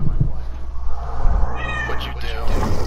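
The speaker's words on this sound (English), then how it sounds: "I hear a cat." A cat meows loudly and close in a drawn-out, rising and falling cry, heard over a room noise background alongside a PlayStation game session.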